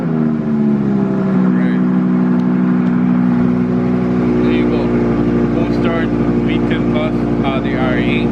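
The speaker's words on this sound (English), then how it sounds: "let me give you guys a cold start" An Audi R8 V10 Plus fires up from a cold start, a loud, steady engine roar with strong harmonic drone that holds throughout, with some higher whirring and chirps layered on top.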